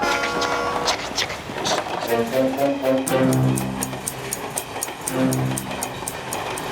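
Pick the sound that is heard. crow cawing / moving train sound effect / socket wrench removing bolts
moving train sound effect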